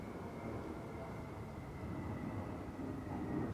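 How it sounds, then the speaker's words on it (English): A loud airplane flies overhead, a steady broad low roar that swells slightly toward the end with no talking. "there's a plane coming and it's so loud."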